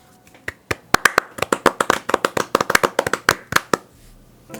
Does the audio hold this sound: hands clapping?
yes